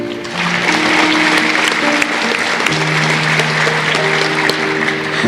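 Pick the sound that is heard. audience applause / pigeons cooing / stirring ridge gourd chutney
audience applause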